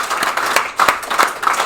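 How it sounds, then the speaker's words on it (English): A small audience at a Life's Kitchen fall graduation gives brief, light applause, with scattered hand claps pulsing unevenly for under two seconds. "let's give her a round of applause for that, too"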